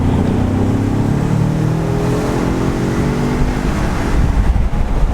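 A 2018 Ford Explorer Sport twin-turbo SUV accelerating hard from inside the cabin, a steady engine drone with rising turbo whine as revs climb through the gears, loud and continuous.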